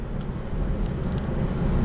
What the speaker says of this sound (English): 15 miles left to put on my little gas sucking four-cylinder truck